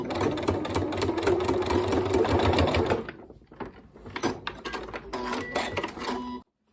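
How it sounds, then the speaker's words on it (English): A sewing machine runs steadily for about three seconds, then stops and gives several short stop-start bursts while back stitching the edge of a quilted snack bag. "And another little back stitch."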